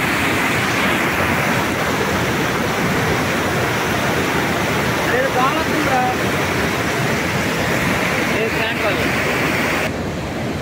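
Surplus Godavari River water rushes down below the Dowleswaram barrage at Rajahmundry, a loud, dense, unbroken roar of churning water that drowns out most other sound, with faint voices briefly audible beneath.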